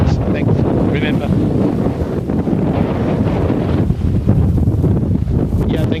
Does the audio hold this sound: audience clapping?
no